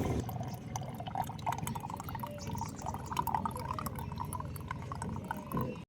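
Water mixed into a motorbike's engine oil drains out after the bike was submerged in a river, a steady close trickling and dripping of liquid running on continuously without a break.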